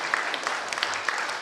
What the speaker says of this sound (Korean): 자, 우리 주일학교 친구들만 자리 한번 일어나서 다시 한번 뜨겁게 박수.